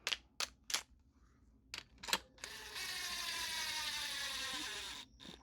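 Hand ratchet and socket tightening a bolt on a Ford Coyote engine being built for a first-generation Raptor: a few sharp close clicks, then a steady grinding ratcheting whir lasting a couple of seconds.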